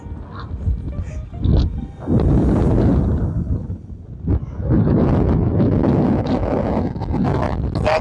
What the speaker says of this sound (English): if it's windy like this, it's always windy here